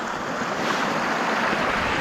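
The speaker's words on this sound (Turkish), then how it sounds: "bırak da derenin sesini dinleyelim" A creek flows beside an icy, partly frozen bank near İlyasfakı village in Ayvacık, Çanakkale, making a steady, broad rushing noise that stays even and fairly loud throughout, with no talk.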